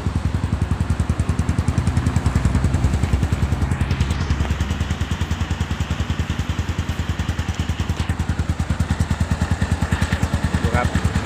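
Kawasaki Boss 175 motorcycle engine idling steadily up close, a continuous rapid thumping putter with mechanical clatter that holds an even rhythm throughout, with no talking over it.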